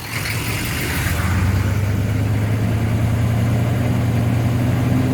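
A 1996 6.5L diesel engine in a truck running steadily as its transmission shifts gears, a low continuous drone that settles into a deeper tone after about a second, close and loud.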